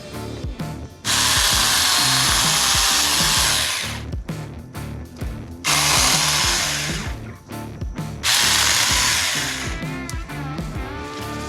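A mini electric chainsaw whines loudly in three bursts cutting wood, each a few seconds long, with quieter gaps of handling noise between cuts.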